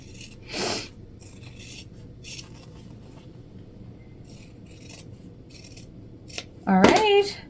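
Scissors cut fabric for wristlet purses, with a few separate snips and slides spread out over quiet stretches and a louder crisp cut near the end.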